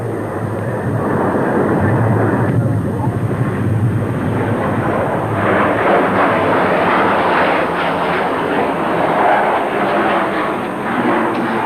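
An English Electric Canberra trainer jet roars past in a continuous loud, rushing engine noise that swells and shifts as it performs a manoeuvring display, with no talking.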